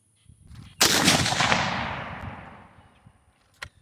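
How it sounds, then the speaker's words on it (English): A single loud, close gunshot from a bolt-action rifle upper cracks out and rolls into a long echoing decay outdoors, followed by a faint distant impact-like tick a few seconds later. "Ooh, that felt like a good shot."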